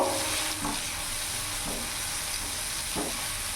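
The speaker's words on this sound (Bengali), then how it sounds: "কিছুক্ষণ নাড়াচাড়া করে ভাজা ভাজা করে নেবো" Chopped onion, green chilli and tomato sizzling in a pan over a medium gas flame, a steady close hiss broken by a few brief stirring scrapes at regular intervals.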